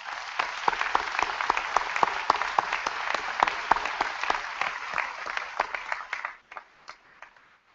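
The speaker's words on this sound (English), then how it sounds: "So I would like to extend a round of applause in thanks to the excellence and hard work that our faculty and staff exhibit" A commencement-ceremony audience claps in a sustained round of applause, many hands striking in dense rapid rhythm before the clapping thins to a few scattered claps and stops.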